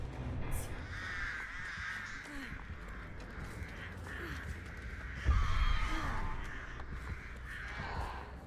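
Crows caw repeatedly in the horror video game Dead by Daylight, harsh calls rising over a dense, rumbling game soundscape, with a heavier thump midway.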